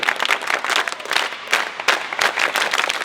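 A college swim meet crowd applauds and cheers, a dense wash of clapping with rising and falling bursts of whoops across the whole span, close and loud, with no clear talking above it.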